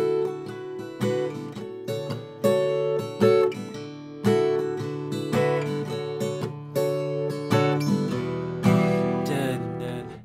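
Plucked acoustic guitar strums in drop D tuning ring out alone, each chord struck and left to decay in a slow, steady rhythm.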